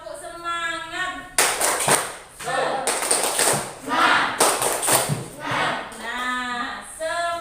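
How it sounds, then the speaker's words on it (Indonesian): Classroom of pupils doing a rhythmic Indonesian spirit clap led by a teacher, quick patterned claps mixed with chanting voices, fairly loud and close, between stretches of speech. "Tepuk semangat."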